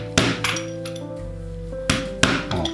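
A hammer strikes a punch to make holes in a leather belt, four sharp metallic taps in two pairs, close and clear over a faint background hum.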